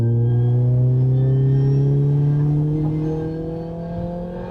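A Ferrari 308 Vetroresina engine and exhaust under way, with a loud, steady, close-up drone of harmonics that rise gradually in pitch as the car pulls through tight corners, then ease slightly near the end.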